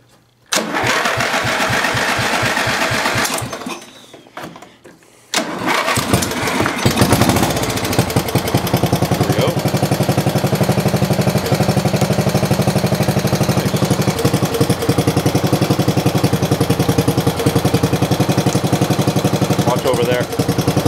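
Riding lawn mower engine cranking in rapid repeated bursts, a short pause, then catching and running at a loud, steady, close-up chatter, with a few louder pops and a voice talking over it.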